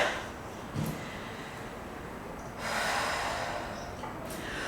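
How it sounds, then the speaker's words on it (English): Audible breaths during a Vinyasa yoga flow, with a couple of soft nasal inhales and exhales spaced a few seconds apart, close and quiet without talk. "Taking another couple of breaths here."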